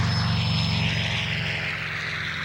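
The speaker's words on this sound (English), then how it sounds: "Here the aircraft is showing in its first takeoff at Chino Airport." A restored Zero fighter plane takes off at Chino Airport, its propeller engine droning loudly with a steady, throbbing roar that slowly fades as it pulls away, with no voices.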